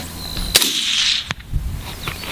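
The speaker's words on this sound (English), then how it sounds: "Shoot him." A single sharp hunting rifle shot cracks out near the middle, loud and close, with a brief outdoor echo trailing off; a couple of smaller knocks and handling sounds follow, with no talk.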